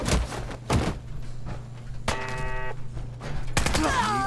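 A 5 millimeter gun firing in Fallout 4, several sharp gunshot bursts spread across the clip with mechanical clanks and a steady low hum in between, close and loud, with no talking.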